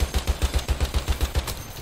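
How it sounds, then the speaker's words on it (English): Rapid, evenly spaced shots from a weapon in Battlefield 1 on Xbox One X, about a dozen punchy bass-heavy bangs in quick rhythmic succession, loud and close with no talking. "Every one of those shots missed?"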